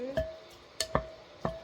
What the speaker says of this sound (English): Give it a stir.